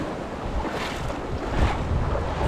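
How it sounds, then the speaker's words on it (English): Strong wind blows by the sea in the Philippines, a loud, steady roar buffeting the microphone, with surf noise washing underneath. It lasts the whole stretch, with no voices. "The wind was so strong,"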